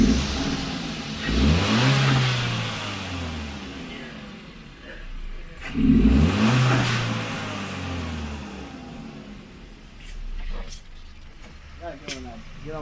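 A factory-modified Kia engine pulls hard on boost, its drone rising in pitch through two long acceleration sweeps, with some turbo-like whoosh and a few sharp clicks near the end.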